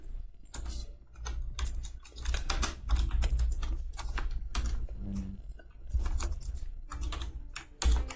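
Code being typed on a computer keyboard while scripting in Unity, a steady run of close, crisp key clicks in quick bursts with short pauses, with no talking.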